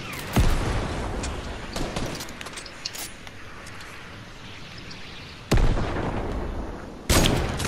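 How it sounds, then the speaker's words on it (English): Rockets fired in a first-person shooter video game, heard as a few sharp, loud blasts at intervals over a rumbling background of distant explosions and gunfire. "We're just shooting rockets at me."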